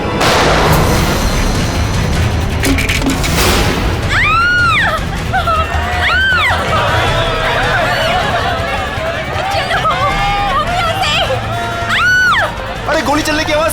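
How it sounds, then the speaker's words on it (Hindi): Gunshots crack amid a noisy, chaotic scene, with sharp bursts, sweeping electronic effects, and people shouting throughout. "अरे गोली चलने की आवाज कहाँ से आई?"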